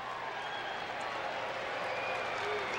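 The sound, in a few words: baseball stadium crowd, sellout crowd at World Series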